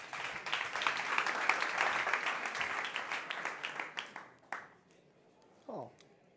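A startup-competition audience at a conference stage bursts into loud sustained applause that thins out and fades to scattered claps, followed by a brief murmur near the end.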